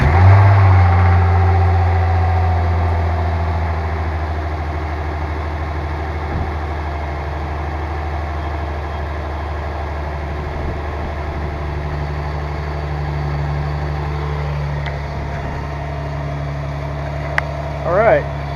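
An Infiniti G35 Coupe engine with a P2A00 fault code fires up with a loud starter burst and then settles into a steady, even idle that holds, heard close.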